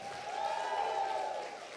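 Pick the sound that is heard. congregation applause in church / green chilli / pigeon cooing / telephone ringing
congregation applause in church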